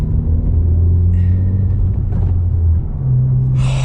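A 2020 Honda Civic Si engine hums steadily at close range, its low drone stepping up in pitch partway through as the car shifts gears, with a brief airy hiss near the end.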